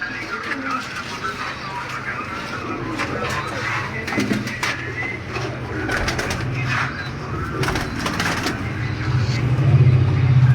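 Pigeons cooing in a dealer's loft, their soft, throaty coos repeating steadily and close by, with a distant car passing and a low rumble building near the end.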